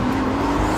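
A 2014 Pagani Huayra with an AMG-built twin-turbo V12 drives past close by, its engine holding a steady mid-pitched drone for under a second.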